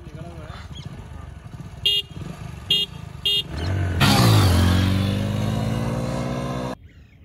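Hero Honda Deluxe and Discover motorcycles line up for a drag race; a few short horn toots sound before an engine roars loudly up through the revs for several seconds, then cuts off, with voices nearby.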